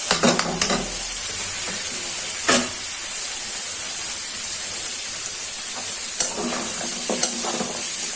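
Mixed winter vegetables fry in a hot pan with chili powder and ground spice paste, giving a steady hiss broken by several sharp scraping stirs, close and with no talking.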